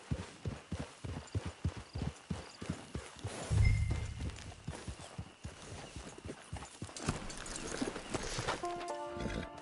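Horse hooves clip-clop in a steady, fairly close rhythm in a PS4 game, then fade under a brief rumble and ambient game sound.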